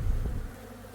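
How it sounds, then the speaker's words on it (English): Close, steady buzzing of bees swarming around a boat, a low droning hum with no voices. "we've been living with the bees for the past week."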